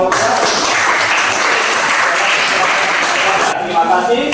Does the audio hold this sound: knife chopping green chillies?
no